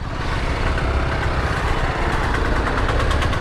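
A BMW G 310 GS single-cylinder motorcycle engine revs steadily and loudly up close, a continuous raspy drone with a fast pulsing beat and no voices over it.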